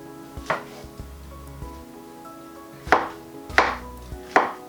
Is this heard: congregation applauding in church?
no